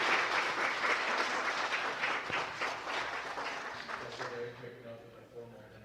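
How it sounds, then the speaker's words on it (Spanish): A conference crowd claps together at an evening gathering, a full, even roar of hands for about four seconds before it tapers off into faint murmuring and a few stray claps. "brindémonos un aplauso."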